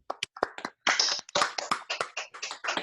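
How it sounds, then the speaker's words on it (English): Scattered, uneven claps from several unmuted participants on a video call, sharp separate bursts overlapping into a ragged, thin round of applause with no talking. "let's all give them Jam a round of applause"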